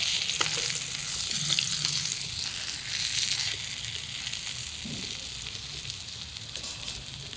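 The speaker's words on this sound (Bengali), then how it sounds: "শুকনা লঙ্কাগুলো ভাজবো" Dry red chillies fry in very hot oil in a home kitchen, giving a steady, close, loud sizzle with crackling hiss throughout and no talk.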